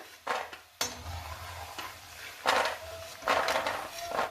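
Fried almonds being scooped out of a pan: a few scraping clatters of a spoon against metal and soft rustling of nuts, close and quiet, in short bursts with pauses, no talk.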